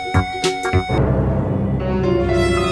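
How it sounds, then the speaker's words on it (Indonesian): Ondel-ondel street procession music rings out with a few sharp percussive hits, then a dense, sustained band of music and crowd noise swells and continues loud and close. "ada suara ondel-ondel."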